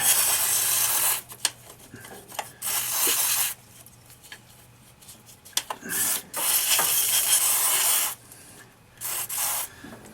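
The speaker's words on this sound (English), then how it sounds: "Bit of carb cleaner, see if I can clean this up a bit." Carb cleaner sprayed onto a Jeep CJ carburettor: several loud hissing aerosol bursts of a second or two each, close up, separated by quieter pauses with small clicks and handling noises.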